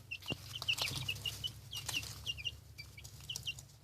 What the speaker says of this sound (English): We have 4 new baby chickens.